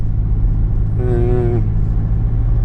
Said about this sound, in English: this big truck of logs going up a hill